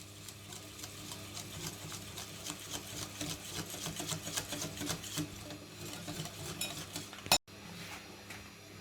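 Dry ingredients being mixed into chocolate cake batter: quiet, rapid, rhythmic stirring strokes that run for several seconds, then one sharp knock and near silence.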